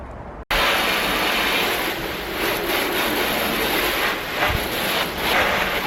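Water pours and splashes over the rear of a Mk6 Ford Fiesta ST150 around its rear light during a leak test. A brief pause is followed by a loud, steady rushing hiss that continues unbroken.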